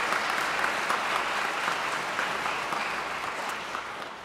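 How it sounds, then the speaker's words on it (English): Steady applause from an audience at a presidential address gathering, a dense continuous patter of clapping that holds for several seconds and eases slightly toward the end. "Let's give them a big round of applause for being with us today."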